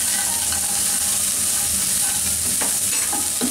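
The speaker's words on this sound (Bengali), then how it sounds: "এখন এইটাকে আমি একটু ভেজে নিই।" Finely chopped vegetables frying in a pan produce a loud, close sizzle under busy stirring and scraping, with a few knocks of the spoon against the pan.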